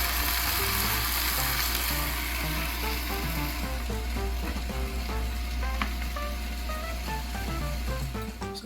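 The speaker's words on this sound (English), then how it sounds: "So this is my indoor smokeless grill." Chicken roasts on an indoor smokeless grill, giving a loud, continuous sizzle and crackle with a steady low hum underneath. The sound stays close and unbroken, with no talking.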